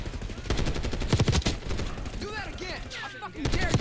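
Sustained bursts of automatic fire from an XMG LMG in Black Ops 6, with loud clustered shots and brief pauses, mixed with whooshing game effects and a faint voice in the background.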